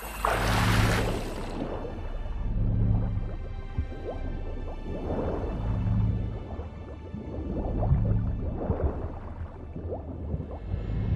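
Bath water sloshes and splashes in a video game, with wet squishing surges and drips coming in repeated waves roughly every two seconds, fairly close and without any talk.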